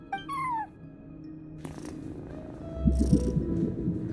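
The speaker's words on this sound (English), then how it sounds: "No one except for a cat watching over the front desk." A cat in Genshin Impact meows in a short, rising-then-falling call, then settles into a low, rumbling purr that swells louder toward the end, close and clear with no talking.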